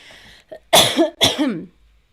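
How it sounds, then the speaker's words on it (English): Two sharp, close coughs in quick succession after a brief soft throat noise, then quiet. "And there's your cough"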